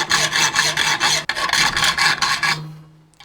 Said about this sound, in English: So the first most basic method is to get a hacksaw.